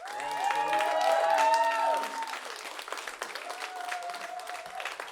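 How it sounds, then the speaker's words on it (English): Comedy club audience at Hyena's in Fort Worth applauding and cheering loudly for about two seconds, with whoops and shouts over the clapping, then the applause thins and continues more quietly under scattered voices. "Put your hands together for the very talented Chris Hopkins."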